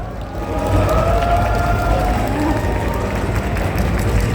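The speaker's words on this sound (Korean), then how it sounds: "큰 박수로 함께 해주세요" Crowd noise at a convention stage show, Blue Stage of AGF 2025 Korea, as a Japanese singer-songwriter is welcomed: a loud, continuous roar of clapping and cheering that swells and holds for several seconds.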